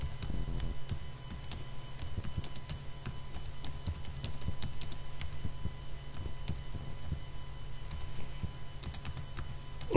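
Steady typing on a computer keyboard while entering a Pascal program, with fast, continuous key clicks over a faint background hum and no talking.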